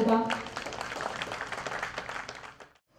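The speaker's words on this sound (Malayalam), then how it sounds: "നിമിഷത്തിന് നല്ലൊരു കൈയടി നൽകാം" A crowd at the opening of a fuel outlet at a KSRTC bus stand in Cherthala claps, a dense burst of applause mixed with a voice that fades out near the end.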